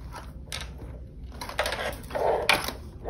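A sewing machine stitches a seam on a quilted oven mitt, giving short mechanical bursts of whirring and clicking separated by brief pauses, close and moderately loud with no talking.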